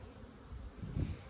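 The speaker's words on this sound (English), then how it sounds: "Loads of lovely bees." Honeybees buzz in a low, close hum as a hive is opened, rising to a denser swell near the end, with no talk.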